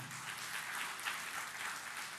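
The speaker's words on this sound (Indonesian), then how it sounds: "beri tepuk tangan yang meriah" A short, steady burst of audience clapping at a church sermon, moderately distant and continuous without speech.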